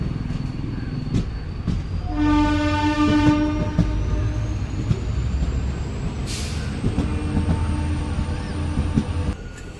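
A MEMU commuter train rolls past with a steady rumble and a hiss of air brakes, while a loud horn blasts for about two seconds, then fades.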